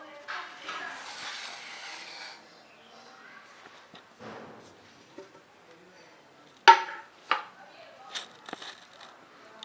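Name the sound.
knife run along the sides of a cake pan to loosen the cake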